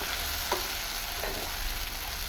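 White gravy for methi matar paneer malai roasting in a pan, a steady dense sizzle with a couple of faint stirring scrapes.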